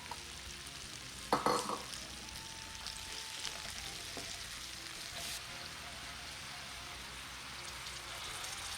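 Apple slices coated in sugar and cinnamon sizzle steadily in a skillet while being stirred, with a sharp clatter of the utensil early on and occasional scrapes over the continuous hiss.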